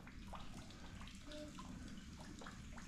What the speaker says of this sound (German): Das Wasser läuft wieder.